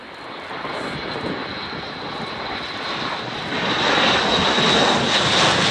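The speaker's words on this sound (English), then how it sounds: "The aircraft coming past us now at the side of the rear ramp open." An Atlas military transport aircraft flies past with its rear ramp open at the Abingdon Air & Country Show, Dalton Barracks. Its loud, steady engine drone swells as it nears, with no voices.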